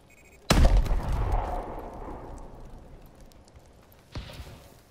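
Gunshots in Call of Duty: Advanced Warfare: one sharp, heavy blast followed by a long rumbling tail, then a second, quieter shot near the end.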